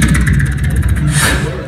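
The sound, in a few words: beatboxer imitating a helicopter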